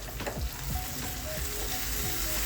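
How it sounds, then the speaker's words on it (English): Steady frying sizzle of capsicum and mutton liver in a pan, continuous crackle with a few soft stirring scrapes, close and moderately loud, no talking. "Can you hear that sizzle?"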